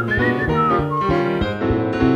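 Whistled melody woven into a live song medley at the Birdland Theater, a clear, steady tune riding above dense musical accompaniment and sustained throughout.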